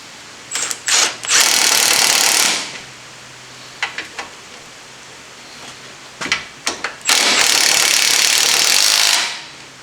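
A power tool tightens engine mount bolts on a 2001-2005 Honda Civic in two loud, close bursts, each led by short stuttering pulses and then a sustained whirr.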